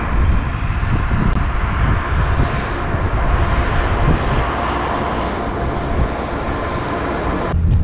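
A truck engine labours uphill on a narrow, steepening mountain road in Xinjiang, its loud, continuous low roar and drone holding steady throughout.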